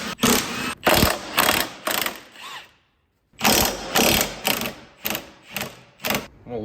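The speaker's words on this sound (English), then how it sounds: "I'm going to go ahead and just unbolt this bracket" A hand ratchet loosening a subframe bracket bolt on a Mazdaspeed 6, clicking in quick, loud bursts of ratcheting strokes, a short pause, then more rhythmic back-and-forth cranks close up.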